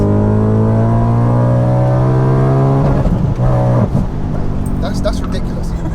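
A supercharged 629bhp Audi RS4 pulls hard in second gear, its engine note climbing steadily in a loud, close, rising whine before a brief shift break and renewed roar; a voice speaks over it.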